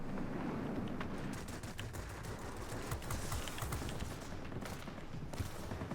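Rapid bursts from four 23mm cannons on an Antonov M fighter in the World of Warplanes game, a dense continuous rattle of gunfire over engine drone with no talk.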